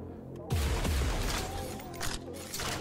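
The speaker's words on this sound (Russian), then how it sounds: "Что он два выстрела делает, а не один." Two loud gunshot blasts from the video game Deadlink in quick succession, with booming low-end impact and echoing tails over continuous game noise.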